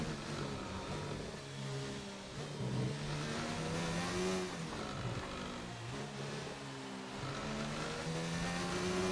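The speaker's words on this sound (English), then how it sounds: "that gearbox is really rattling" An F1 race car in the F1 2019 video game at the British Grand Prix, engine droning and shifting pitch through gears with a steady mechanical gearbox rattle, continuous and fairly close.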